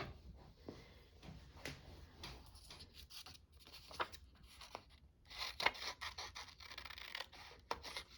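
Scissors snip out a paper craft image of a bunny for a spring journal, giving quiet, close scratchy cuts and rustles of paper in short irregular bursts.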